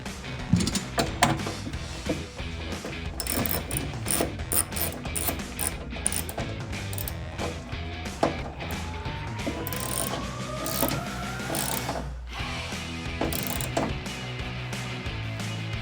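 A ratchet wrench clicks rapidly and repeatedly as bolts are tightened on a rear wing spoiler for a 2016–2024 Camaro ZL1 1LE, close and continuous with dense mechanical ticking.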